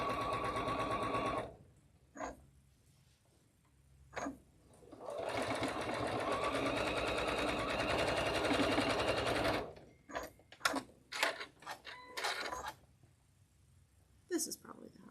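A sewing machine stitches seams in quilting cotton, running in short bursts and then one long steady run of close mechanical whirring, with talking and quieter handling noises in the gaps between runs.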